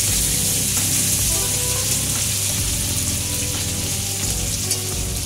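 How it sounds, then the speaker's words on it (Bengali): Ginger and tomato sizzle and fry in a kadai while being stirred, a steady loud crackle across the whole stretch with faint scraping, and no talking. "আর দেখতে পাচ্ছ আদার সঙ্গে টমেটো কিন্তু ভালো করে আমরা নাড়াচাড়া করে নিচ্ছি কড়ার মধ্যে।"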